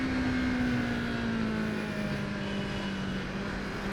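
A Yamaha MT-25 motorcycle pulls hard in second gear, its engine tone rising steadily as it accelerates, loud and close, with a slightly falling drone and wind noise throughout.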